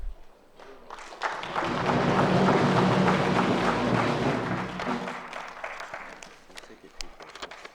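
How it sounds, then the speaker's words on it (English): Applause from an audience at an inauguration ceremony, a dense broad wash of clapping that swells to a loud sustained peak and then thins out toward the end. "So please, can you put your hands together for the lecturer, please?"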